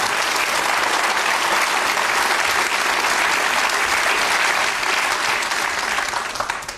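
Studio audience on a quiz show breaking into loud sustained applause, dense clapping that holds steady for several seconds before tapering off near the end, with no one talking over it.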